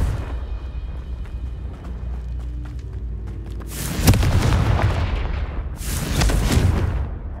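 Confringo blasting spell in the Hogwarts Legacy video game, two loud booming explosions with broad crackling bursts about two seconds apart, preceded by a lower rumbling background.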